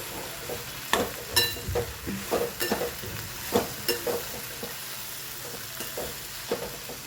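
Okra and potatoes cooking in a kadai, with irregular scraping stirs and clinks over a soft, steady sizzle, close by.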